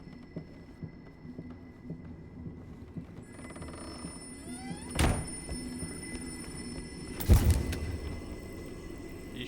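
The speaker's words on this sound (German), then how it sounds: "Ich fackel dich ab, du verkacktes Telefon. Hör auf zu bimmeln." A telephone rings in the horror video game Layers of Fear, two loud bell rings several seconds apart over a low, quiet ambient hum.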